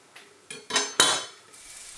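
A knife cuts through thick parsley stems on a board in a kitchen, three or four crisp, close chops spaced a fraction of a second apart, quiet and alone.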